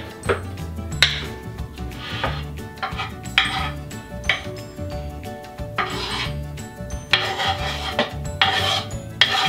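Baking ingredients stirred in a bowl with a utensil: continuous scraping and clinking of metal against the bowl in uneven strokes, close up and fairly loud, with no talking.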